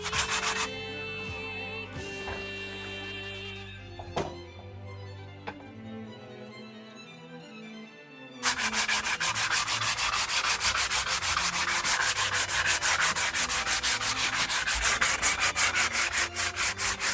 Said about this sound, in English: 120 grit is going to take away all the carving marks and smoothen it out